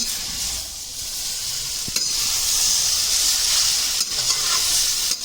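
Bitter gourd coated in gram flour fries in a wok with a steady, close sizzle and crackle, broken by a few louder scraping stirs of the spatula around the pan; no one speaks.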